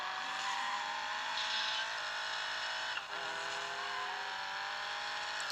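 A Daewoo Nexia car driven in GTA, its steady engine drone continuous and close with a faint scrape or knock partway through, no voices.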